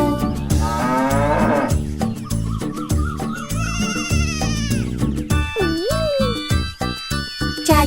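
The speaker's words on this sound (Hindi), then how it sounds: "उनके खेत में थी एक गाय, E-I-E-I-O। यहाँ मुँह मुँह करे, वहाँ मुँह मुँह करे" A cartoonish cow moo sung within a Hindi version of the Old MacDonald children's song, heard over a bright, busy musical backing with bouncy melody and playful sound effects, loud and continuous.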